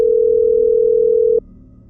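A loud, steady telephone dial tone sounds close and alone for just over a second, then cuts off, leaving a faint low hum; it plays as a phone is picked up to call the police.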